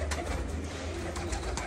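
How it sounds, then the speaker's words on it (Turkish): Pigeons cooing inside a coop of Arabian birds, soft low repeated coos close by over a steady background hum. "Oo, maşallah bir sürü kuş var arkadaşlar burada."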